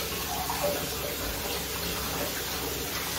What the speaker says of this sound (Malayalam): ആദ്യമേ ഞങ്ങളുടെ പൈപ്പ് വാട്ടറിൽ ഇത് കുറച്ചു നേരം